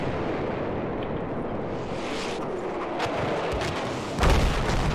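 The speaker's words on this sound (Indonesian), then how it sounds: "Oh, ada tembakan balik dari arah itu ya" Gunfire and explosions from the World War I shooter game Battlefield 1: a dense, continuous roar of battle with scattered sharp shots and a heavy boom near the end.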